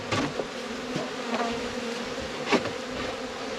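A swarm of honeybees being taken out of a wall hums in a dense, continuous buzz close by, with a few louder passes as single bees fly near, and no talking.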